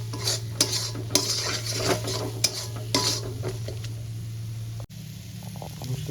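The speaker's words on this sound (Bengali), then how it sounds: "মশলাগুলো সামান্য আমি কষিয়ে নেবো 5 থেকে 10 মিনিট।" Ground spices stir-fried in a pan, with repeated metal spoon scrapes and clanks against the pan over a low background hum that cuts out near the end; no voices.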